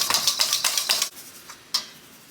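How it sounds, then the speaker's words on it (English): A whisk beats lemon drops into hollandaise sauce in a bowl, quick metallic clinks and scrapes in a fast rhythmic run, then a few slower strokes and one sharp tap, close-up with no talk. "you're just going to whisk it up."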